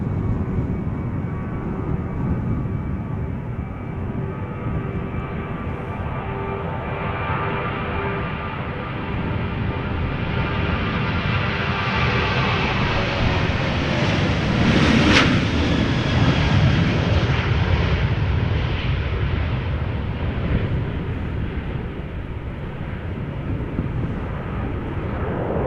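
A 14-year-old Georgian Airways Boeing 737-800 departs Schiphol for Tbilisi, its jet roar building loudly as it passes close, whining tones sweeping down, then fading slowly, with no talk.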